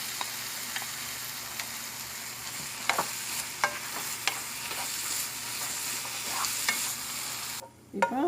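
Carrot halwa with nuts stirred in a pan until it rolls free of the sides: a low continuous simmer-sizzle broken by repeated scraping strokes of the spoon, close and fairly quiet.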